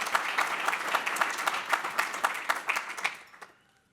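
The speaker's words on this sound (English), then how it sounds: "give a round of applause to Brad and Corey" Audience at a corporate annual meeting claps for award recipients: a steady round of applause from a modest crowd, evenly paced and fairly close, fading out over the last half second.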